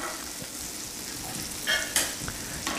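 Butter melting and sizzling in a pan, a soft steady crackle with a few brief clinks and scrapes of a utensil, no voices.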